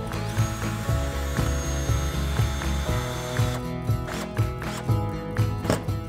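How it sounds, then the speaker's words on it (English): A power drill drives screws through plywood into wall studs, a close, loud whirring with repeated bursts and ratcheting pulses as each screw is run in, the motor pitch rising and dropping between pushes. "We drilled a small pilot hole, ran the screws in."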